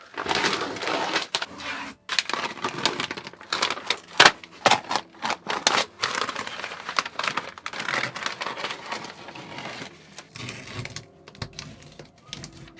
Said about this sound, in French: J'adore décoller le scotch.